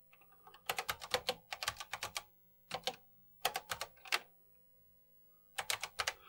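Clattering keystrokes on an old computer keyboard picked up at an estate sale, fast bursts of sharp clicks separated by short pauses, close and fairly quiet with no voices.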